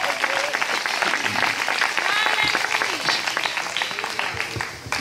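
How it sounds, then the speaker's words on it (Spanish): A church congregation claps steadily and loudly, dense applause filling the room, with voices mixed in underneath. "Denle un fuerte aplauso al Señor en esta preciosa hora."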